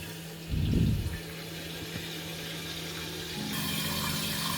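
Water rushes into a toilet tank as the supply is turned back on during a repair kit install, a steady, close hiss and trickle that grows fuller toward the end, with a brief louder gush early on.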